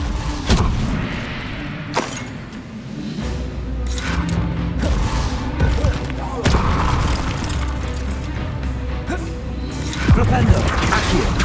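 Blasting spell explosions and booms in the video game Hogwarts Legacy, with repeated heavy thuds, crashes and rumbling impacts layered over combat sounds and talk throughout.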